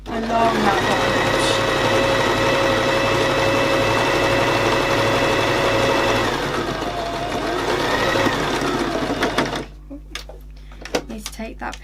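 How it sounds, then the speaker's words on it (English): A sewing machine stitches along the bottom edge of an envelope cushion cover, running steadily and close for about nine seconds before stopping, with faint handling sounds afterward. "we're just going to sew all the way along that bottom edge"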